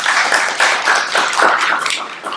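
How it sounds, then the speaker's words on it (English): Audience applause as a speaker is welcomed at a talk, brisk and close, with individual claps distinct in a short steady burst. "Let's give a round of applause for Mark"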